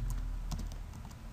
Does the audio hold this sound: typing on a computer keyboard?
yes